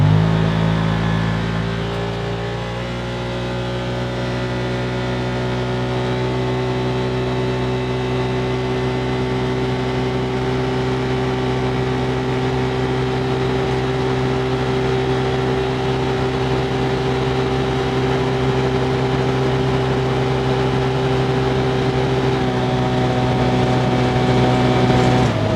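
A 2024 Can-Am Commander MAX XT-P side-by-side runs flat out on an open road in high range, two-wheel drive and sport mode. Its engine drones loud and steady, the pitch climbing slowly as it pulls toward top speed, with no talk over it.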